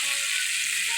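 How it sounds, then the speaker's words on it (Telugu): Tempering spices and garlic paste hit hot oil in a pan, giving a steady, bright, close sizzle that hisses without a break. "పోపులు వేసి వెల్లుల్లిపాయలు పేస్ట్ వేసానండి."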